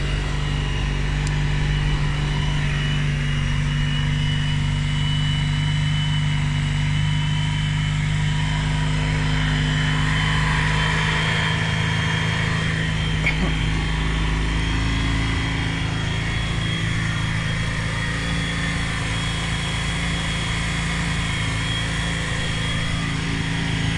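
A Honda ST1300 motorcycle idles at raised revs after a cold start, a loud, steady, close engine drone that holds evenly throughout with no talking over it.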